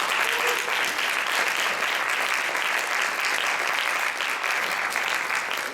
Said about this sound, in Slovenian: tako da najprej en najlepši aplavz za vse